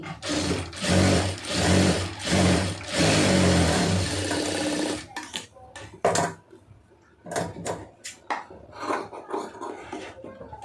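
A sewing machine stitches a blouse band. Rhythmic bursts of close mechanical whirring last about five seconds, then give way to scattered clicks and short handling knocks.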